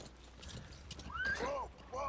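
In the Metal Gear Solid V video game, the horse D-Horse gives a wavering neigh over light clip-clopping hooves and mechanical ticks, followed by a shorter second whinny, all fairly faint.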